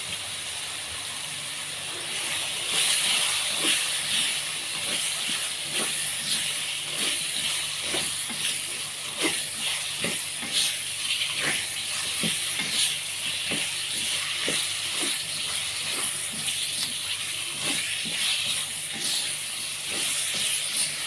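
Jengkol pieces frying in hot oil in a pan for spicy balado: a steady, loud hiss and sizzle runs throughout, peppered with frequent small pops and crackles.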